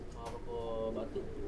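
Low, rounded cooing of racing pigeons nearby, a short soft burst of warbling calls over light background noise.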